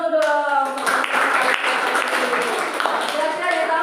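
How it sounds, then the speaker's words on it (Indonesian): Hands clap in an online class gathering, a dense patter of many claps running throughout at steady loudness, with voices talking over it. "Oke, tepuk tangan dulu dong."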